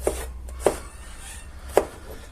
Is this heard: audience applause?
no